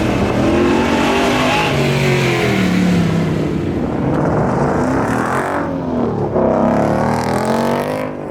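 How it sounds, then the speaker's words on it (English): Ford Mustang race car at an autocross shootout, its engine loud and continuous, surging and easing through revs as it works the course, heard up close with no speech over it. "Mustang behind me running again."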